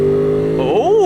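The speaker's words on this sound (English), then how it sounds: "Wow, that sounds like an entirely different motorcycle right there" A 2021 Ducati Monster Plus engine holds a close, steady note, then revs up and down in a quick rising and falling sweep.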